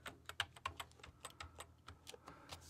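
Someone types a password on a computer keyboard: a quick, uneven patter of soft key clicks, close and quiet, with no voices.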